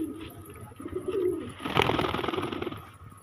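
Pigeons coo softly in a loft, low throaty murmurs rising and falling, with a brief burst of flutter or rustling in the middle and no talking.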